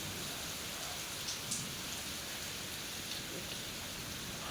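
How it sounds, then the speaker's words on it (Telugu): Summer rain falls steadily in a dense, even hiss, with faint patters of drops on surfaces and no voices. "కానీ వాన మాత్రం భలే పడుతుంది।"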